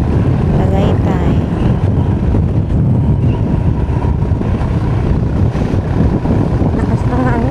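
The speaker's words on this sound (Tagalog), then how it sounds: "Lakas ng hangin, naali pa rin yung cellphone ko." Loud, constant wind roaring against a phone microphone outdoors in Amadeo near Tagaytay, Philippines, with a faint voice briefly audible beneath the noise.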